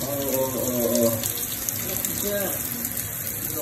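Tap water runs steadily into a sink after a blockage is cleared, a continuous splashing gush with faint voices mixed underneath.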